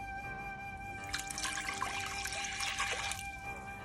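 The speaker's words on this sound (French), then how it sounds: "dans la cocotte, je vais verser un demi-litre d'eau" Half a litre of water poured into a cooking pot for miso broth, a splashing pour swelling in the middle and tapering off over a low background hum.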